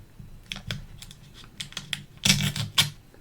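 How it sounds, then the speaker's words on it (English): Paper being cut with a blade drawn along a straight edge, heard as a series of sharp, scratchy clicks and scrapes in uneven bursts, close and fairly quiet. "I'm going to use a straight edge here to try to get as clean of a cut as possible"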